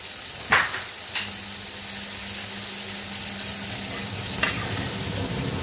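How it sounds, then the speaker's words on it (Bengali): Kitchen chimney exhaust hood running over a pan of oil with garlic and green chilies for pickle, a steady broadband whoosh with a faint low hum, broken by a few sharp clinks and scrapes, with no voices. "আমি একটু চিমনি চালিয়েছি, চিমনির আওয়াজ এটা একটু দেখো তোমরা"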